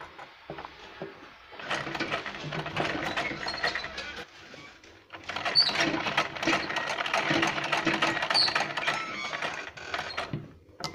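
Sewing machine stitching blouse fabric, a close mechanical whirring and clatter in two runs with a short pause between, no voices.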